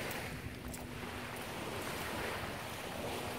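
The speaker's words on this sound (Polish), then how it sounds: "Piękne widoki i relaksujący szum fal." Small waves wash steadily against the shore of Lake Garda, a soft continuous rushing surf mixed with wind noise on the microphone, faint and without voices.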